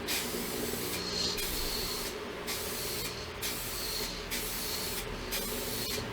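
Several short bursts of aerosol spray paint hiss, roughly one per second, loud and close, separated by brief pauses, while refinishing an Epiphone SG guitar.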